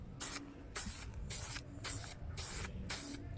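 Spray paint hisses from an aerosol can onto patio furniture outdoors in six even, evenly spaced bursts, each about a third of a second long, close and steady, with no talk.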